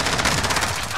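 Rapid automatic gunfire in Call of Duty: Modern Warfare on PC, a loud, dense burst of shots fired back to back for about a second, filling the whole clip with no talking.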